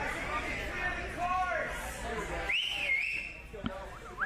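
A whistle is blown to clear the course at a pro team obstacle competition, a sharp warbling tone rising above crowd chatter and ongoing talk.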